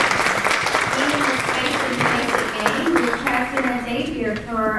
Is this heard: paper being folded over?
no